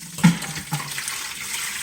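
Water and sliced fresh cucumbers, salted for bread and butter pickles, pour into a colander and drain, a close splashy rush at the start, a second splash, then a steady trickle.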